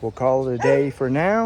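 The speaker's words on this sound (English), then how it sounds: "you can hear my dog barking at me" A dog barks and whines in a drawn-out, yelping series while someone speaks over it outdoors at dusk, near a covered boat parking area under construction.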